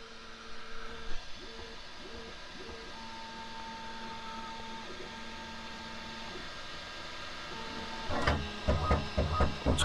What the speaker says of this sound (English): Now it's actually rubbing the printhead back and forth to make sure it gets all the filament off of the nozzle itself.